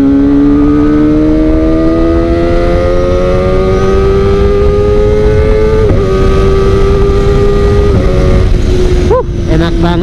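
A modified Kawasaki Ninja ZX25R engine wails loud and close while being ridden. Its pitch climbs steadily as revs rise, with a short dip near a gear change and another break just before the end.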